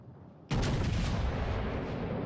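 Naval artillery fire in World of Warships: Legends, a sudden loud boom that breaks over a quiet background and rolls into a sustained rumbling decay.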